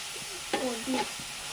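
Chicken pieces being stirred in a hot pan as they fry, with a steady sizzle and a couple of scraping stirring strokes close by.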